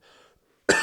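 One short, sharp cough close to the mic, abrupt and loud after a brief moment of near-silence.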